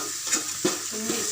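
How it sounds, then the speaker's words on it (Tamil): Food cooking in ghee is stirred in a pan, giving a close, steady frying hiss with several scraping strokes of a spoon at irregular intervals and no talking. "நெய் போட்டு நல்லா கிண்டணும்."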